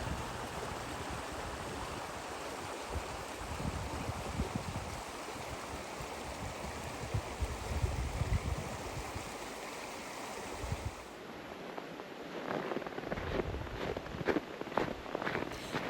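Partly frozen creek in winter flowing as a continuous broadband rush and gurgle, steady and fairly close, with some scuffing footsteps near the end.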